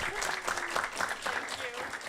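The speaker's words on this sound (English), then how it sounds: "So please give also a big applause for Emma." A conference audience applauds organizer Emma with soft, even clapping. The sound is quiet and somewhat distant, and a voice speaks faintly under it.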